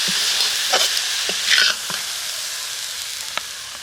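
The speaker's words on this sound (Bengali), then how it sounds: "এইভাবে জাল দিয়ে নাড়তে নাড়তে কিন্তু গুড়টা গলে যাবে" Coconut and jaggery filling stirred in a pan over heat, a steady close sizzle with scattered scrapes and spoon clicks, one brief brighter hiss midway; no talking.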